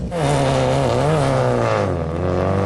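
Hyundai Excel and a rally car accelerating together on bitumen, a loud continuous engine drone with rising and falling harmonics as revs climb and shift, close and steady without talk.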